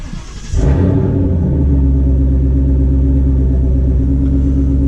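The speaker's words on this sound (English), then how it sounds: "Turn the key off for 10 seconds and then start the vehicle." A 2018 Ford Mustang GT V8 with a ghost cam tune cranks and fires up, then settles into a loud, deep, steady idle rumble heard up close for several seconds.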